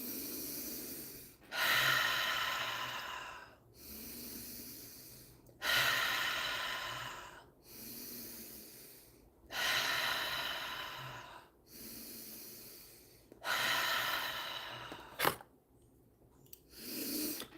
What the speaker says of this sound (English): Deep breathing lets go of unprocessed stuck energy.